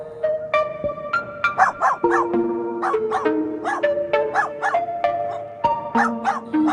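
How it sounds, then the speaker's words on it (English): A dog barking and yipping in quick repeated bursts, close and loud, with short whimpering tones between the barks. "dog,"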